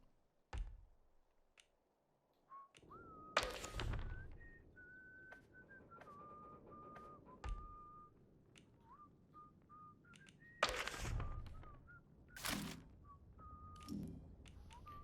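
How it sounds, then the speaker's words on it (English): Whistling nearby in the video game Atomfall, a wavering melodic tune held over several seconds, interrupted by loud sharp clicks and thuds from gameplay, with no talking. "Whistling again nearby."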